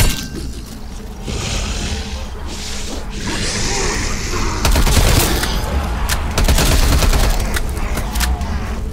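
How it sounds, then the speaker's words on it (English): Automated turret fire in Black Ops Cold War's Mauer Der Toten zombies map, a rapid barrage of sharp gunshots that starts midway and keeps going loud against low game ambience. "The auto turret will target you almost immediately."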